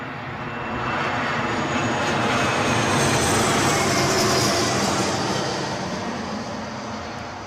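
A Loganair airliner arrives at Newcastle International Airport, its engines a loud, close, continuous roar that swells to a peak and then eases slightly as it passes.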